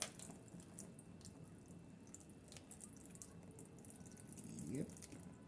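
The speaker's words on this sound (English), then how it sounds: "And I'm supposed to put water to a certain level." Water trickles and splashes quietly into a self-cooking Chinese rice container, a soft, uneven pour with a brief gurgling rise near the end, faint and close.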